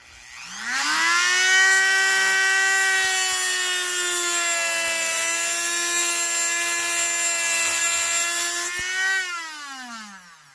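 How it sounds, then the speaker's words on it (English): A Dremel rotary tool cutting into a diecast car body: a high-pitched whine spins up, holds as a steady grinding tone for about eight seconds, then winds down, close and loud, with no voices. "let's pick up the Dremel again. And then we're going to kind of cut back right here"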